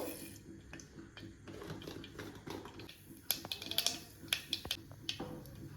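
Mustard seeds crackle and pop in hot fat, with sharp irregular snaps that grow more frequent toward the end over a quiet sizzle.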